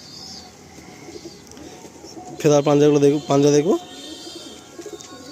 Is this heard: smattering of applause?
no